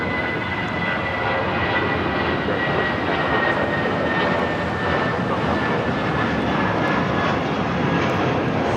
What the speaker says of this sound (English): 1494 taking off to Las Vegas on the A320